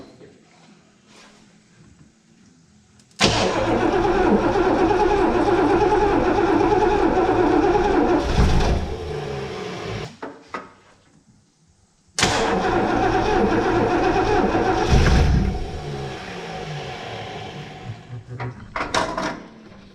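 A 1971 Lincoln Mark III barn find, running on old gas, cranks loudly in two long bursts of steady rhythmic starter churning, each cut off abruptly, with brief quiet and faint voices between attempts.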